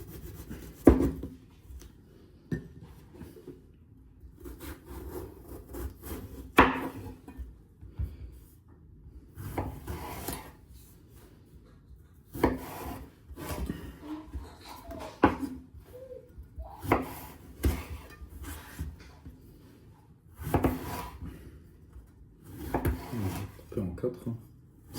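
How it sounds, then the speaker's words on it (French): A knife chops an eggplant into pieces in a home kitchen, giving a series of dull rubbing, knocking cuts against a wooden board that come in uneven bursts, fairly close, with stretches of quiet in between. "on va commencer par couper l'aubergine"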